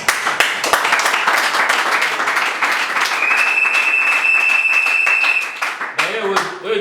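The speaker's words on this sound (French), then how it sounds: "tu applaudis un peu très fort pour ses parents." Wedding guests at a civil marriage ceremony clap loudly and steadily for the couple's parents, a dense wash of applause with a sustained whistle-like tone partway through, fading near the end as voices begin.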